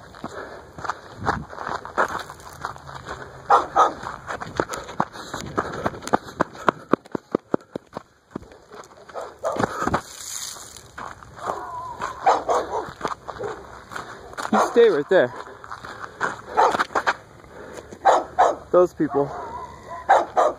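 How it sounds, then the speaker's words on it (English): An aggressive off-leash dog on Sand Creek Trail in Colorado Springs barks repeatedly in loud, close bursts, with footsteps on the path and someone talking tensely between the barks. "the dog just runs around all the time without a leash and is very aggressive"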